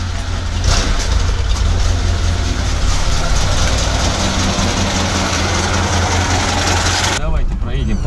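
A VAZ car's engine drones loud and steady from inside the cabin while driving, a continuous low rumble with road noise, cut off abruptly near the end; a voice may be faintly present under the engine.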